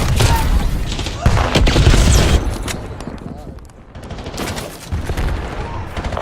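Explosions and gunfire from a multiplayer shooter match, with a frag grenade blast among loud, dense bursts of shots and booms that repeat across the clip, dipping briefly before picking up again.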